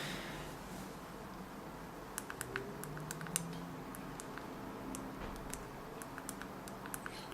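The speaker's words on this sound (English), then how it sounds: "I'll show you just a quick test on how the keyboard works on this." Typing on the Palm Pixi phone's small physical keyboard, a scattered run of faint, close key clicks over a quiet room hiss.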